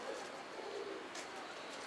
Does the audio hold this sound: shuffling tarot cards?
no